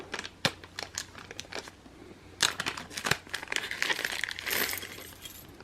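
Plastic bag of footpeg mounting hardware for a Sur Ron Light Bee or Segway X260 crinkled and torn open, close and crisp, with sharp rustling bursts and small clinks of parts, no voices.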